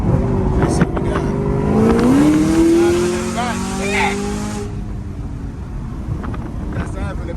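An 800-horsepower Camaro ZL1 1LE race car accelerates hard, its engine note climbing steeply through the revs in a loud, close roar before backing off to a lower drone, with voices talking inside the car.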